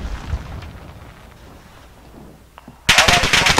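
Video game shooter gunfire arrives as a sudden loud burst of rapid automatic shots near the end, after a quieter stretch of distant rumble and scattered faint pops.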